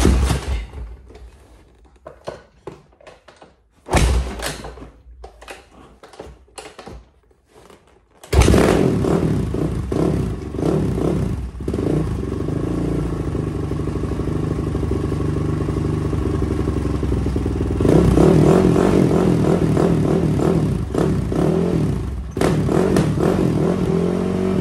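A Honda CRF450R dirt bike engine sputters through a few failed kickstarts, then catches and runs loudly, revving up and down close by with clattering mechanical noise.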